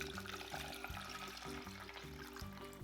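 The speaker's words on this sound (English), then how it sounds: "Pour in the water" Water poured into a hot pot of melted sugar while cooking lion's head meatballs, giving a continuous close sizzle and bubbling rush with a repeating scraping pattern underneath.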